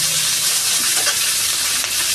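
Food frying in a pan for a Bengali puti fish charchari, a steady close sizzle with faint crackles running throughout, no talking.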